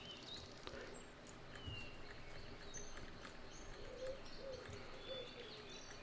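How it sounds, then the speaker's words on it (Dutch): Pigeon near a window making soft, faint low coos in a few short phrases over a quiet background hiss, with scattered light chirps. "Er zit echt een irritante duif hier herrie te maken."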